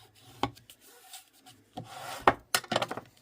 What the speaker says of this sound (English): we'll give that a good burnish to make sure it's attached